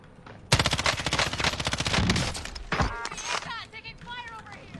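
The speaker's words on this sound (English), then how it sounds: "Taking fire over here." Rapid automatic gunfire in the Warzone video game, a dense sustained burst of shots close and loud, followed by scattered pops and ringing effects, with players talking over it.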